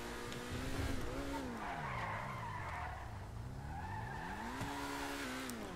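The Turismo Classic car in GTA V Online drives with its engine rising and falling in pitch, while tires skid and squeal repeatedly through the whole stretch.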